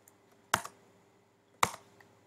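Two isolated sharp keystroke clicks from a computer keyboard while typing code, about a second apart, close and crisp in a quiet room.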